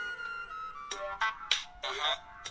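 A mobile phone ringtone plays indoors in a domestic drama scene, sounding as a melodic electronic tone followed by four short, bright bursts in a regular pattern at moderate volume.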